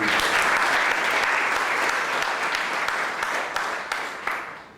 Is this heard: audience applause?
yes